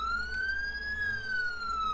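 A siren wails in the Roblox game ERLC, one slow rising and falling tone held near and loud over a low engine rumble, with no voices.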